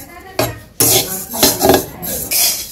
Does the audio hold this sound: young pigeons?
no